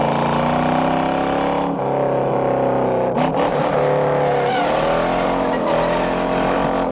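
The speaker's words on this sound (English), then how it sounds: "Steve McQueen's Mustang has got to be the meanest sounding vehicle ever put in a fucking movie" Steve McQueen's Mustang engine from the movie Bullitt, a loud, continuous, throaty roar with brief dips and shifts in pitch, alone and close.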